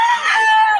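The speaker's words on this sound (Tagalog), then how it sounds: "Tatlong manok na dito" A rooster crows in a single drawn-out call at a busy Bocaue market, loud and close, with its harmonic tone holding steady before tailing off.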